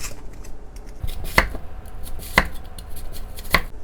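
An onion chopped with a knife on a cutting board, three sharp, distinct knocks spaced about a second apart over softer handling noise, close and without speech.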